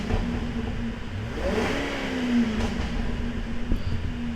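A 2006 Cadillac XLR-V's supercharged engine hums at a steady, close throaty idle, with a brief swell of revs that rises and settles back down.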